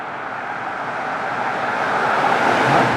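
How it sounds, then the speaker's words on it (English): A V12 Toyota Century accelerates hard, giving a smooth, muffled rising engine and road roar that grows slightly louder over three seconds, with no speech. "If you floor it right now, it's just probably gonna spin the wheels."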